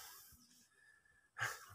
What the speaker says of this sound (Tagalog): hinihingal ako kasi tumawid kami sa malaking sapa